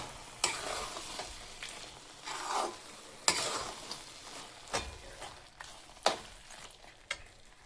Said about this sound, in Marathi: आता आपण याच्यात ड्रायफ्रुट्स टाकूयात आणि ते मिक्स करून घेऊया.